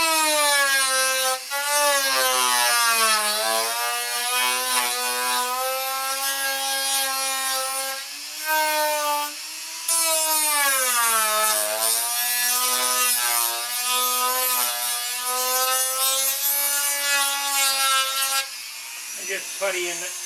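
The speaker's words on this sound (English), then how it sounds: "I think I'm going to take the drum sander and sand it off." A drum sander whines steadily as it sands down a wooden lump on a model plane, its pitch sagging and rising as the load shifts, loud and close throughout with a brief pause partway.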